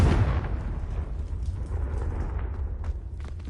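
A Confringo fire spell explodes in Hogwarts Legacy on PS4, a loud opening burst that fades into a sustained crackling rumble with small pops scattered throughout.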